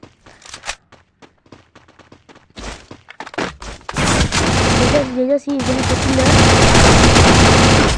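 Rapid gunfire from a shooter video game, with sparse single shots at first followed by dense sustained automatic bursts, loud and close under faint game voices.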